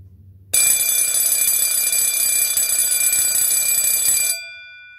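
A 1990s Gent conventional fire bell run on a 19 volt test, ringing as one loud continuous piercing metallic clang for about four seconds before cutting off abruptly, close and alone.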